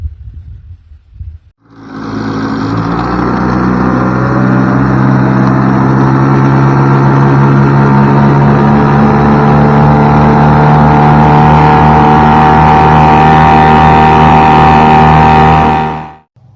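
A cheap outboard boat motor bought online for under $200 starts up and runs steadily for about fourteen seconds, a loud, continuous engine drone with a low hum, then cuts off abruptly.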